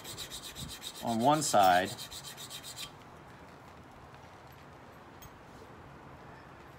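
Hand-filing or grinding a new flat bevel onto the tip of a tanto knife: close rasping strokes for about three seconds, with a brief voice mixed in, then only faint room noise.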